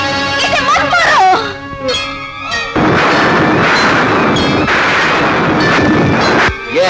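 Loud gunshots blast out during a Hindi film action scene, a few heavy booming reports landing amid shouted dialogue and dramatic music, with a sustained roaring stretch in the middle.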